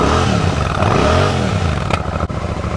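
A Royal Enfield Shotgun 650 motorcycle engine runs loud and close with a deep, throbbing idle that rises slightly, then a sharp click and brief dip near the end.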